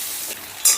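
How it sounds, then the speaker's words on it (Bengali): Cut potato pieces frying in hot oil over a high flame with salt and turmeric, a close, steady sizzle with brief stirring scrapes and a sharper crackling flare near the end. "নুন হলুদ দিয়ে আলুগুলোকে বেশ লাল লাল করে ভেজে নেব"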